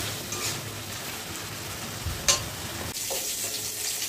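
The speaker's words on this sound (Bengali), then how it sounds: "তো ভাবলাম যে এই আলুর দমটা একটু গরম করে নিই," Leftover potato curry (aloo dum) reheats in a pan, making a moderate, even sizzle and bubbling hiss with one brief clink partway through. No one speaks.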